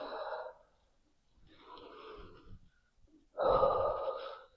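Slow controlled breaths during a beginner Pilates lower-body exercise, with three separate airy exhalations close to the mic and the last one loudest.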